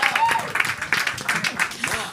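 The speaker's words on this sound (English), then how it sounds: "Give them a huge round of applause" An audience at a New York City food policy panel applauds the panelists, a short burst of scattered clapping with a voice speaking over it.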